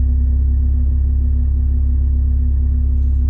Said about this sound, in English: Inside the car at idle.